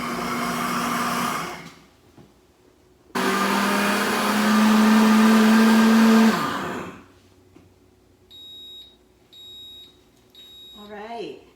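A Pampered Chef blender blends and heats potato cheddar soup with a loud, steady motor whir for a few seconds, pauses, then runs again longer, followed by a few electronic beeps and a short voice.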